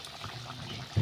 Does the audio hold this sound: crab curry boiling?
yes